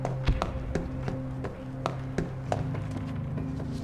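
Knocking on a door in the video game This War of Mine: a run of sharp taps spread across the clip over a low, steady game music bed, with no talking.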